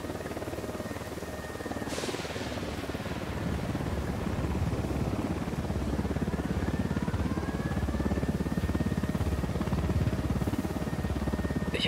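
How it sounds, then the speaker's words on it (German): A helicopter approaches in the Ghost Recon Wildlands video game, its steady rotor drone building gradually and staying loud throughout, with a faint whine above the broad rumble. "Heli im Anflug."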